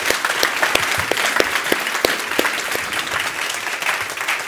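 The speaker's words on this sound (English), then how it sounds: "A big round of applause." Audience at an international head and neck cancer conference gives a full round of applause, dense, steady clapping that stays loud and close throughout with no voices over it.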